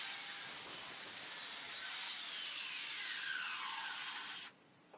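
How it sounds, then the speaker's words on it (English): Miter saw cutting short wooden legs for a simple step stool: a steady, loud whirring cut with hiss that holds for about four and a half seconds, then stops abruptly as the blade winds down. "I'm just marking up the length with the set square and just cutting the legs down"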